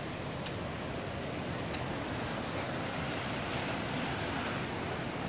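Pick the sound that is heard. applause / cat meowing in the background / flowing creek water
flowing creek water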